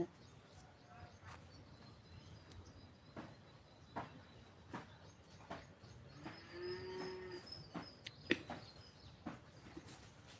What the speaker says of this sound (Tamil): ரெண்டு மாடு இருக்குது அதை பார்த்துட்ருக்காங்க